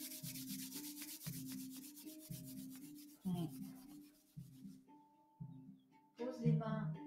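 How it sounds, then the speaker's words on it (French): Palms rubbing briskly together in repeated bursts during a morning mind-body routine, a steady swishing friction that pauses between strokes, with a voice speaking softly in between. "frotte les mains."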